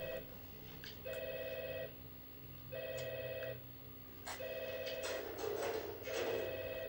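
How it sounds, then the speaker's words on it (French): Telephone in the video game Breakdown ringing in repeated bursts with short pauses between, fairly loud and steady against a low game background hum, with no talk over it. "Téléphone sonne."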